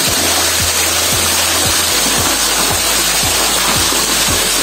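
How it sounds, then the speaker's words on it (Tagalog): A small waterfall in a park rushes in a loud, steady broadband roar, close by and unbroken, with faint regular low thumps beneath and no voices. "Para sa mini falls."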